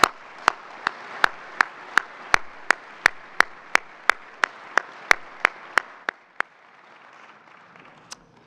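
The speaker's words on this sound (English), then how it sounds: "give them one more round of applause" A small audience at a tech awards dinner claps for award winners, with about sixteen evenly spaced sharp claps at first, loud and close, then thinning to a few scattered claps and quiet room tone.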